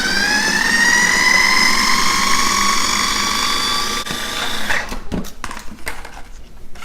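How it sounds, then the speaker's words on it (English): Kitchen blender running on high, chopping stuffing for stuffed grape leaves: a loud steady whine that rises slightly, then cuts out into rattling and clattering. "we're just gonna blend that on high till it's completely chopped"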